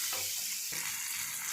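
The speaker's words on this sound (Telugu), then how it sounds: "ఇప్పుడు చిక్కుడుకాయలు కూడా వేసిన తర్వాత అన్నీ కలిపి బాగా ఎర్రగా చక్కగా వేయించుకోవాలి." Broad beans (chikkudu) fry in a pan, giving a continuous sizzle with brief scraping sounds as they are stirred.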